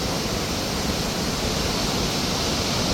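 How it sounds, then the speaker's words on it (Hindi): Deep, fast-flowing river water rushing beneath an iron footbridge on the Kedarnath trek, a dense unbroken roar that is loud and close with no talk over it. "देखो कैसे चलने लग रहा है पानी।"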